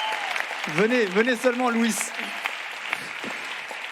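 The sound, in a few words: audience applause for the prize winner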